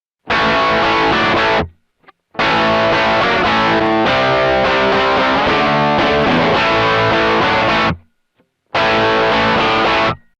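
Heavily distorted electric guitar through a Joyo British Sound pedal, recorded straight into an audio interface, plays loud, buzzy, fizzy chords in bursts with short silent gaps, sounding harsh and thin without a speaker cabinet.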